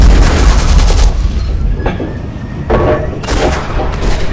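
A Hanomag half-track's gun fires in the tank game Steel Fury, with heavy booming shots over a loud, steady engine rumble inside the vehicle.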